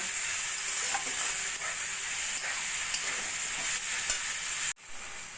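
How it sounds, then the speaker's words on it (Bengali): Ground spices with tomato, salt, turmeric, cumin and chilli powder sizzle steadily in a hot pan, with a continuous frying hiss and scraping stirs throughout, broken by a brief clatter near the end. "মশলাটা একটু ভাজা ভাজা করে নেব"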